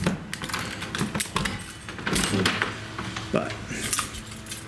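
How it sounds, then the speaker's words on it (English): A large bunch of identical house keys jangles and clinks repeatedly in the hand in irregular metallic bursts up close, with a brief spoken word partway through. "I feel like a friggin' janitor with all these keys."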